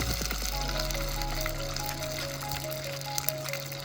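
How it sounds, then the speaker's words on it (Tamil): Green chillies frying in hot oil for a village-style fish curry, giving a steady, close sizzle throughout with a faint tonal hum in the background. "பச்சை மிளகாய் ஆட் பண்ணி நல்லா வதக்கிக்கோங்க."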